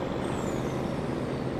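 Steady, close rumble of a truck engine in Farming Simulator 22 on a Western Australia map, droning without a break, with a faint high hiss sliding down early on; no talking.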